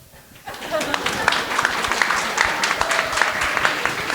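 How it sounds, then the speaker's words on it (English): Audience at a youth wildlife symposium panel breaks into steady applause after a short quiet start, many hands clapping in a dense, even patter that holds at moderate loudness to the end. "Please clap."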